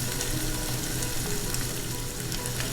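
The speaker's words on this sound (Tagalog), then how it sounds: "You wanna brown the skin and some of the flesh." Chicken skin and flesh browning in a hot pan for arroz caldo, giving a loud, steady sizzle and frying crackle throughout with no speech.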